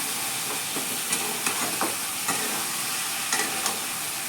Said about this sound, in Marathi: असं सगळ्या भाजीला आपण मिक्स करून घेऊया